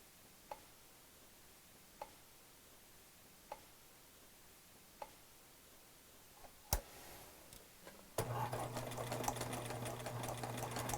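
Sewing machine zigzag stitching over crochet thread on tulle: a few isolated needle clicks at even intervals, a sharp knock, then the motor starts and runs in a steady, close whirring chatter.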